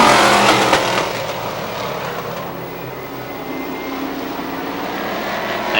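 Race cars roar around Star Speedway in New Hampshire, a loud, steady engine drone from a close pack that swells briefly at the start, then holds an even, continuous rumble without any voices.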